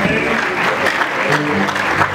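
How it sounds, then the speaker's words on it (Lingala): An audience at a memorial for Papa Charles bursts into dense, sustained applause, steady and fairly loud across the whole moment, with faint voices mixed in. "Est-ce qu'on peut acclamer?"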